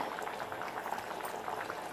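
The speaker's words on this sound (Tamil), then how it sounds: "மறுபடி 2-3 நிமிஷம் கொதிக்கட்டும்." Close, steady bubbling of a thick Tamil vegetable curry kulambu simmering in a pot, with continuous soft pops and gurgles.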